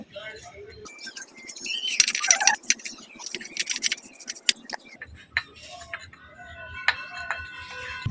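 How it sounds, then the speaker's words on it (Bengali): Ginger and garlic are ground into a paste by hand for an egg curry, giving irregular gritty scraping and knocking bursts, loud in places and fading to softer rubbing. "এবার আদা রসুনটা বেটে নেব"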